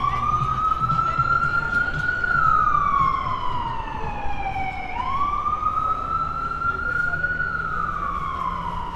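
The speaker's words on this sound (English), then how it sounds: "We'll wait for the ambulance to go by." An ambulance siren wails through a Midtown Manhattan street on a Saturday night, its pitch sweeping up and down in long slow cycles, loud and close over steady traffic rumble before shifting as it passes.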